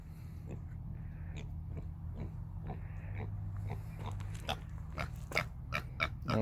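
A farm pig in a hotwire pen grunts and oinks in short, repeated bursts, faint at first and growing louder with squeals toward the end, over a low steady hum.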